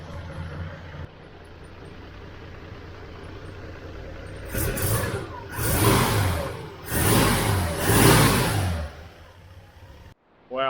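A 1979 Holden Kingswood engine on new spark plugs idles, then revs up in three or four swelling bursts, loud and close, before settling back; no one speaks over it.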